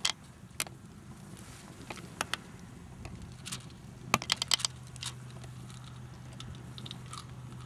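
Small vials of white anabolic tablets being opened, giving a run of light plastic clicks and crisp rattling taps, bunched in a quick burst near the middle over a low steady hum, with no talking.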